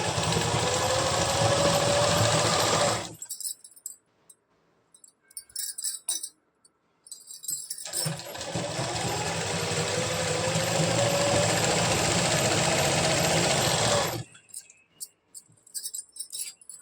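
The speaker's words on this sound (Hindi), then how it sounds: "अब हम इसमें पूरे में गोल करके सिलाई लगा लेंगे।" A sewing machine runs stitching a waistband belt onto a salwar, in two long, loud, steady whirring runs separated by a quiet pause with small handling clicks, ending in a short stop.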